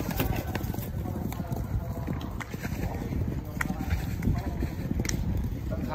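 A racehorse at a point-to-point meeting walks on soft ground, its hooves clip-clopping in a steady close rhythm over wind and outdoor rumble, with people talking in the background.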